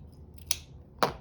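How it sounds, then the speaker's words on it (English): Scissors cutting a sheet of junk-journal paper in two, two sharp close snips about half a second apart against a quiet background. "I think we're just going to cut it in two."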